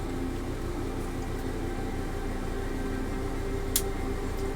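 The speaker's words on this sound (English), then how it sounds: "I gotta fire up my air compressor, get that ready, get this ready for painting." An air compressor runs for spray-painting a 1/144 scale B-1B Lancer model kit, giving a steady, even mechanical hum with a hissing whir and one brief click, close and with no voices.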